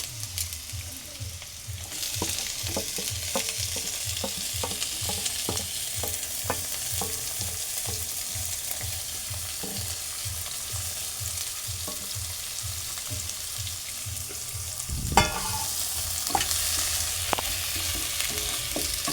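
Onion and tomato frying and being stirred in a pan, with a steady sizzle and a regular rhythm of spoon scrapes. A louder clatter comes near the end. No one speaks.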